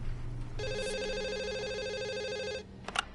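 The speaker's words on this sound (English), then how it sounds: "Then answer the phone." A telephone rings steadily in the video game The Assembly, a sustained electronic ring lasting about two seconds, then a few short chirps follow, heard alone and fairly quiet.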